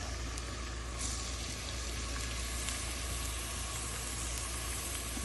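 Sliced onions fry for birista in hot oil, giving a dense, continuous sizzle that holds at an even level throughout, close and loud with no voices over it.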